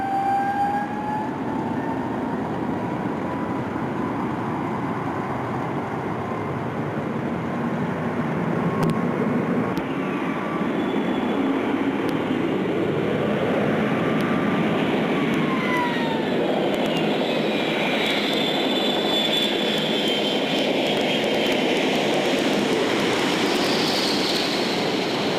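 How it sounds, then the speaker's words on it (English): A Boeing 777 aborts its takeoff under full rudder, giving a long, loud jet-engine roar with whining tones that shift and slide as the engines change power on the runway. "This Boeing 777 applies full rudder and aborts takeoff."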